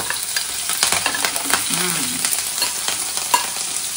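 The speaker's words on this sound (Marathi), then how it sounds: "मिरची आणि कांदा मस्त परतून घ्यायचा" Green chillies and onion fry in hot oil in a pan, a steady close sizzle broken by frequent scraping and tapping strokes as they are stirred, with no voices.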